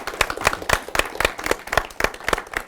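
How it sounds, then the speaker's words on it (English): A small audience claps for a speaker at a college coffee house event, with distinct, rhythmic hand claps standing out clearly and close throughout the short burst. "Let's give Jay a round of applause."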